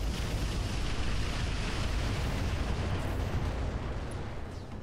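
Weapons fire in the Roguetech BattleTech mod of the video game as a dense, continuous roar of rumbling blasts. It is loud and sustained throughout, with no speech.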